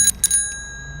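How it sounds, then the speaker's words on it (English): Bicycle bell mounted on the handlebars right beside the microphone on a night ride in Minneapolis, struck in two quick bright rings followed by a lighter tap, loud and close, then a fading ring-out. "Hopefully that bell wasn't too loud, because I think that is right by the microphone."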